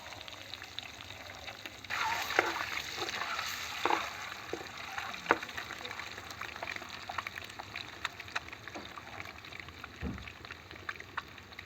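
Eggs with onion fry in a pan, crackling and spitting steadily with sharp pops scattered over a continuous sizzle, close up and with no talking.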